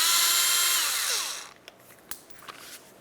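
Power tool on a mounting bolt of a 2006–2012 Toyota RAV4 bumper, a loud high whir that winds down and stops, followed by a few faint metallic clicks and taps.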